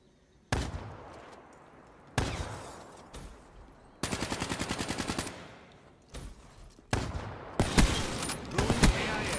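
Gunfire in Black Ops 3, a series of loud, close shots: single sniper-like blasts with echoing tails, a rapid burst of automatic fire in the middle, then more sharp shots and bursts toward the end.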